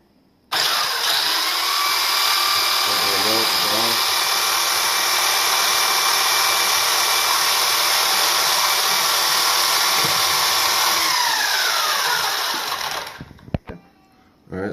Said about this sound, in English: it's going to go ahead and go full throttle here